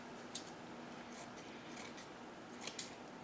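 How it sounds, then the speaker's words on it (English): Scissors snip through quilt batting being trimmed for snow on a gingerbread-style kitchen lantern decoration, with a few quiet, crisp cuts spread out over a faint background hiss. "I think I'm going to trim that down just a bit"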